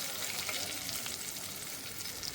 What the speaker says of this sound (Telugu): మొత్తం బ్యాడికి కారమే వేసి ఫ్రై చేస్తున్నా